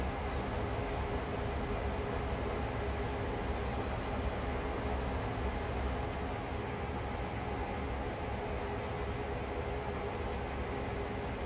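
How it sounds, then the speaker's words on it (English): A CSX heavy-haul freight train passes on the Sand Patch to Yoder line in Maryland in Train Sim World: a steady, loud, broadband rail rumble and wheel roar that holds evenly throughout with no voices. "There's another train passing us."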